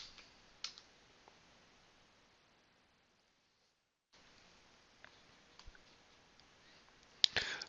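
Sparse, quiet keyboard clicks and taps over a faint hiss, with a silent gap in the middle and a louder burst of keystrokes at the end.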